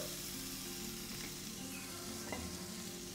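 Paneer frying in a pan for chilli paneer, a constant close sizzle with a few stirring scrapes and no voices.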